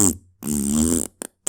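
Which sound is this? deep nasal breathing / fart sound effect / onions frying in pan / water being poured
fart sound effect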